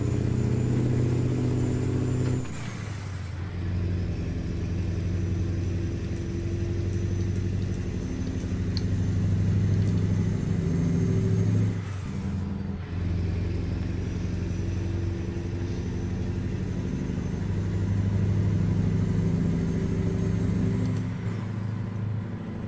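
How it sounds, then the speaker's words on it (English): A log truck pulling a double trailer drones along with a steady mid-pitched engine rumble, the tone dipping and climbing through two gear shifts, loud and continuous with no talk. "And this truck is so nice."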